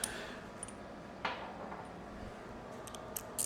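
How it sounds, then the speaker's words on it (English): A portable air conditioner's faint, steady mechanical drone fills the room throughout, with a few small clicks and ticks scattered over it. "that sound you hear in the background, that's my portable AC unit."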